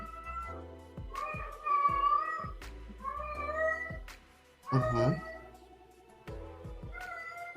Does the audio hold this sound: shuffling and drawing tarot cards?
no